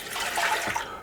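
Milk pouring into the bowl of an Ankarsrum stand mixer, a short, steady liquid splash up close that fills the whole moment.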